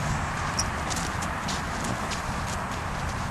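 Hooves of a horse clip-clop in a steady, soft walking rhythm on a hard surface, fairly faint and alone, with no voices.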